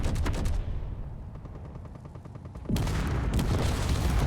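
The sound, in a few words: spaceship gunfire in Conflict Europa Alpha video game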